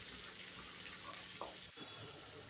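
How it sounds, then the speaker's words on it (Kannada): Onions, green chillies and curry leaves frying in a pan over a low flame, a steady faint sizzle with a brief stir or clink partway through. "ಈಗ ಅದಕ್ಕೆ ಈರುಳ್ಳಿ, ಹಸಿಮೆಣಸಿನ್ಕಾಯಿ, ಕರಿಬೇವಿನ ಸೊಪ್ಪು ಹಾಕ್ಕೊಂಡು ಫ್ರೈ ಮಾಡ್ಕೊಳ್ಳೋಣ"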